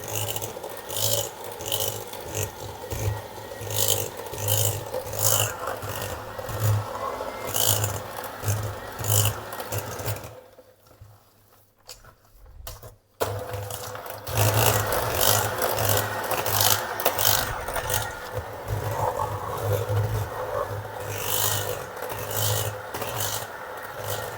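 Sweet curd (tvorog) dessert mixture beaten with an electric mixer, a steady loud whirring drone with scraping rasps against the bowl, cutting out briefly midway and then resuming.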